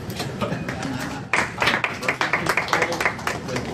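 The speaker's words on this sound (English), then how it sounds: "We should clap." Audience clapping at a WordCamp NYC 2009 conference session, a burst of dense, close hand claps breaking out sharply and continuing steadily, with talk mixed in underneath.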